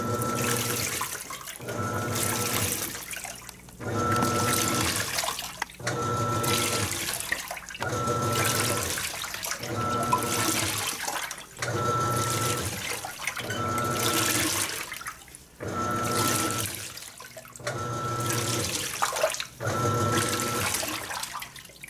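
A Panasonic 18 kg titanium top-load washing machine (NA-F180P7T) agitates a king-size comforter in water, making rhythmic sloshing surges roughly every two seconds, loud and close, with brief pauses between strokes.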